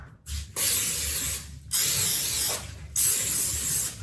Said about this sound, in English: First, we need to spray the crock pots with some cooking spray.